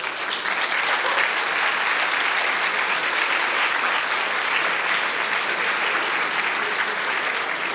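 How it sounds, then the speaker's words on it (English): Sustained, loud applause from a keynote audience at a Unity developer day in Mexico, a dense even wash of clapping holding steady for several seconds with no voice over it. "I figured that would get some applause."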